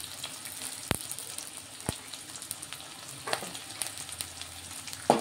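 Carrots and capsicum are stirred in a pan of frying upma, giving a quiet steady sizzle broken by a few sharp scraping clicks of the spoon against the pan, heard up close.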